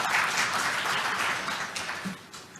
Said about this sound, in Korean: 다 같이 큰 박수로 환영해 주시기 바랍니다.